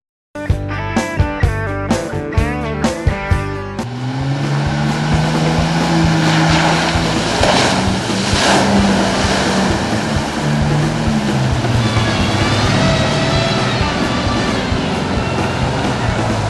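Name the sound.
four-wheel drive vehicles driving through a bog hole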